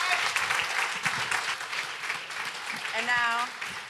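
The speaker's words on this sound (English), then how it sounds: "give him another round of applause" Studio audience claps loudly and steadily for a musician during a radio station's up-close session, the dense applause filling the whole stretch while a voice briefly speaks over it near the end.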